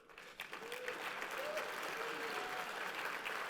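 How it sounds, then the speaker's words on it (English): Sustained applause from an audience at a 2021 holiday party and awards event, clapping for the sponsors; it swells within half a second into a steady, dense wash that holds evenly to the end. "Let's give another round of applause to our sponsors for their support"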